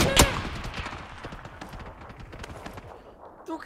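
A rapid burst of gunfire in PUBG on PC, one loud opening shot and then a steady rattle of quieter shots that thins out, with a faint voice near the end.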